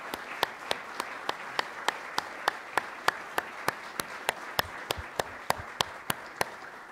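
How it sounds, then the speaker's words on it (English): Students receive a round of applause at a college State of the College address: evenly spaced, sharp claps repeat steadily for several seconds over a soft, hissy crowd bed, with no talking. "if you would join me in a round of applause for all of them"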